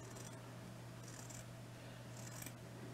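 Scissors cutting a circle out of a piece of felt, three soft brief snipping strokes spaced about a second apart over a low steady hum, very faint and close.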